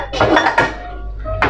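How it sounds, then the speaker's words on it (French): A small saucepan set down among kitchen cookware, a few quick metallic clinks and knocks close by, then a moment of quiet before a final clank. "Le petit poêlon, je vais le remettre ici."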